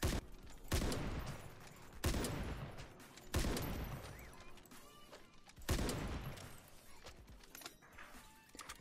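A bolt-action sniper rifle in the shooter Ironsight fires four sharp, booming shots at irregular intervals of one to two seconds. Each shot decays into a short echoing tail.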